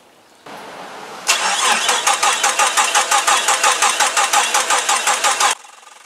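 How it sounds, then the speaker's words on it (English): Jeep XJ engine cranking over with a rhythmic, pulsing starter churn for several seconds after a click and low hum, then cutting off abruptly without catching into an idle. "when I start to rotate the engine and turn the engine over with the key"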